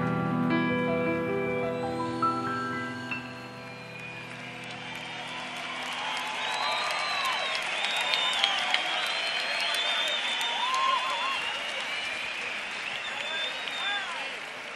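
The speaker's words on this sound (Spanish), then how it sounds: "un gran aplauso" Applause breaks out from an audience at a stage performance of a Wizard of Oz–themed show, with crowd clapping and faint cheering rising under fading held musical tones and continuing steadily.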